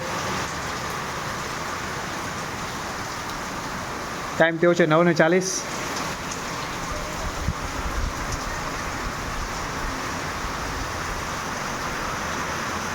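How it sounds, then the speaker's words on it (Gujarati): Heavy rain driven by strong wind, a continuous dense hiss of downpour with gusty rushing; someone speaks briefly partway through, then the steady roar of rain resumes alone. "અત્યારે ફૂલ ધુઆધાર વરસાદ ચાલુ છે પવન સાથે"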